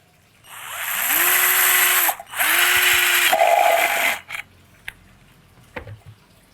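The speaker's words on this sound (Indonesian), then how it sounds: "Sudah itu kita lubangi pakai bor." A power drill whirs in two long bursts, its motor spinning up each time, followed by a few light knocks and clicks.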